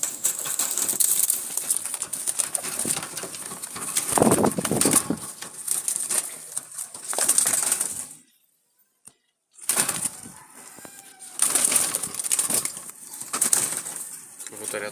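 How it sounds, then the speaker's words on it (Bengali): Wild Jalali pigeons flutter and hop about nearby, with bursts of wing flapping and scuffling that cut out into a brief silence midway before resuming. "কবুতর এত লাফালাফি করে ভিডিও করা যায় না ঠিক মতো"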